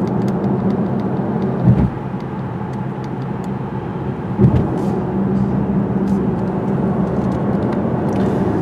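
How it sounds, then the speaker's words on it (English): Steady broadband road and tire roar inside a 2017 Mercedes-Benz CLS cruising on a highway, even and continuous with a couple of brief thumps over seams, no voices. "It's a very quiet car on the highway, very smooth car. No engine noise, no wind noise, a little bit of tire noise."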